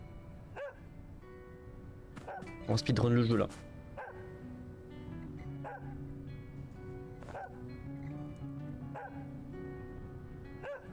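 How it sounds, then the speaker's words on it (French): Dog barking in the video game Helpless, several short barks and yips scattered across the clip, with one louder burst early on, heard under steady French commentary from a player. "On va sauver le chien."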